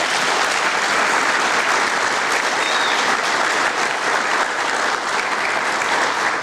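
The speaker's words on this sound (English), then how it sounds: "Please give them all a big round of applause." An audience at a sheriff's office awards ceremony gives sustained, dense applause, a loud wash of clapping from a large crowd that continues without a break.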